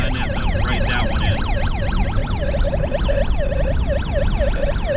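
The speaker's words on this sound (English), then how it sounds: "Just turn that siren off." A police car siren wails in a fast, steady yelp, its rising and falling tone repeating about twice a second, loud and close with road noise underneath and no voices.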